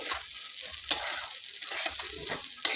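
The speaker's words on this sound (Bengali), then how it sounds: "চাল, কাজু কিশমিশ এগুলোকে একটু কড়াইয়ের মধ্যে নেড়ে নেবো।" Gobindobhog rice with fried cashews and raisins being stirred in a wok, a soft continuous scraping and rustle with faint sizzling and a couple of sharper clinks of the spoon against the pan.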